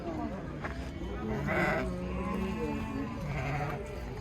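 Kazakh sheep bleating repeatedly at a busy Kyzylorda livestock market, several calls rising over a steady crowd murmur and nearby talking.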